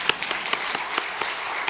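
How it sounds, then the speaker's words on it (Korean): A church congregation applauds during a Sunday worship service, giving brisk, fairly loud clapping with a regular rhythm of sharp claps over a short burst, with no talking. "박수 치시면 됩니다."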